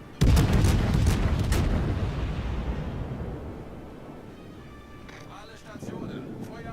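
Heavy naval gun salvos from the German battleship Hindenburg in World of Warships boom out at once with a loud blast, then a long rumbling decay fading over several seconds, with a faint later rumble.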